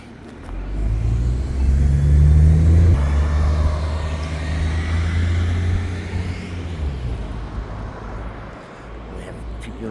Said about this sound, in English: There's traffic go by